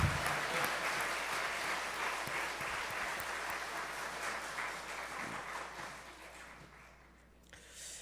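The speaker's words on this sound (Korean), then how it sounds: "큰 영광의 박수를 올려드리겠습니다" A large congregation claps loudly and densely at an Easter joint Christian worship service. The applause forms a continuous wash that gradually fades and stops near the end.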